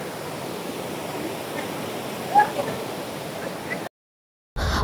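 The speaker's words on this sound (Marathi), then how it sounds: "उंचावरून कोसळणारा धबधबा, त्यातून फेसाळत वाहणारे थंडगार पाणी" Water cascades from a height at the Daryai Mata waterfall near Nashik, a faint, steady rushing wash heard from the hilltop that cuts out briefly near the end.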